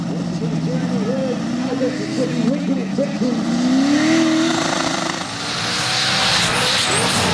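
A 572 big block Chevy drag race car with a turbocharger, rated around 2,800 horsepower, roars at full throttle with a rising engine note under a commentator's voice, then fades toward crowd and track noise.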